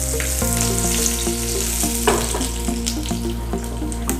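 Mustard seeds, dried red chillies and curry leaves hit hot oil in a steady, bright sizzle with scattered pops. A sustained low tonal hum runs underneath.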